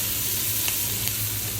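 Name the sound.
onion and green chillies sautéing in fish-frying oil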